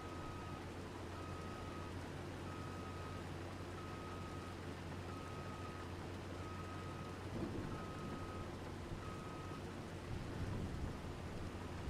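Steady rain hisses in a Farming Simulator 25 field, an even wash of noise with a faint repeating tone and low rumbles underneath, quiet and unbroken throughout.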